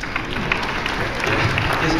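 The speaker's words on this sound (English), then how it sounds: "I got applause for being able to think." Convention crowd at San Diego Comic-Con 2012 breaking into steady applause and cheering from a large hall audience, a dense continuous wash of clapping throughout.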